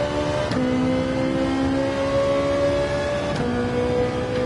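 A race car engine in Gran Turismo 7 on the Daytona Road Course revs loudly and steadily, its pitch climbing and dropping back at two quick gear changes.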